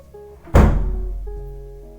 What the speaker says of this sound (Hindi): दरवाजा बंद कर देनी